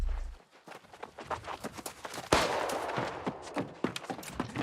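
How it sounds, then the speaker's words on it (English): Gunfire in the video game New World: Aeternum, with a sharp shot standing out, followed by a rapid run of footstep-like thuds and scattered cracks. "He's still shooting."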